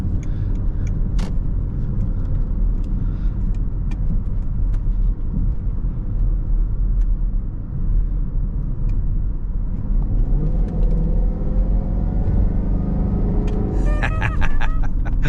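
A 2006 Range Rover Supercharged with worn air suspension drives along, its engine rumbling loud and steady inside the cabin, rising in a rev near the end with faint clicks over the road noise.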